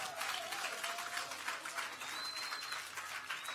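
At a Colihaut town hall meeting, a crowd breaks into steady, thick applause that carries on evenly, with a faint whistle-like tone rising briefly partway through.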